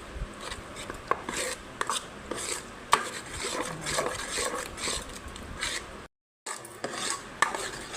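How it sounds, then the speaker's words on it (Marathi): Idli batter of curd, semolina, baking soda and salt is stirred in a bowl, giving repeated soft scraping and clinking strokes at close range with a brief pause near the end. "मिक्स करायचं, हलवायचं त्याला सगळं."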